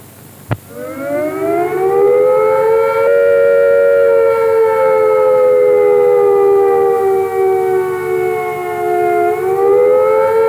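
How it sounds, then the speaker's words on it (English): A loud British air attack warning siren winds up after a sharp click and holds a steady wailing tone, then dips and rises slightly near the end. "If attack is imminent, you will hear the attack sound like this."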